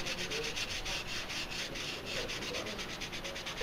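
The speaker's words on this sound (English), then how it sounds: "I'll come back and I'll start sanding it as well," Steady hand sanding on a wooden CO2 dragster body, a continuous rough scratching with quick back-and-forth strokes, close and fairly loud, no voices.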